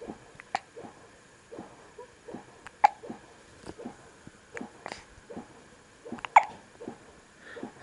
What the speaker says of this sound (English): Hiccup again.